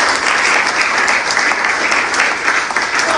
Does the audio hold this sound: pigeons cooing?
no